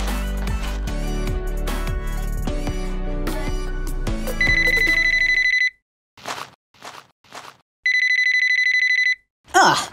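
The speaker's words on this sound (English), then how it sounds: "random caller. I'm not picking this up." A telephone ringing in a comedy sketch: a loud electronic ringtone sounds in repeated bursts after a stretch of busy music, alternating with short pauses.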